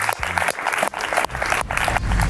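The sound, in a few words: applause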